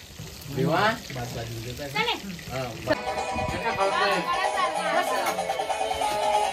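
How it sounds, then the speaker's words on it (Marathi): Meat, likely mutton, frying hard in a pan at a home New Year celebration, a steady sizzle running under several people talking over it throughout. "अजून कडक फ्राय होऊ द्या."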